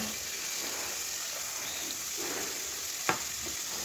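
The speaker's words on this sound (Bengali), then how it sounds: "কড়া গরম হয়ে গেছে তেল দিয়ে মাছগুলো দিয়ে দিলাম" Pangas fish pieces drop into very hot oil in a pan and fry with a steady, quiet sizzle, broken near the end by one sharp clink of a utensil.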